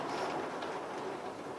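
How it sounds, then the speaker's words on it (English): Steady rain falls outside as a continuous dense hiss without pauses, moderately loud and even throughout, with no voices. "Ooh, do you hear that? It's raining here."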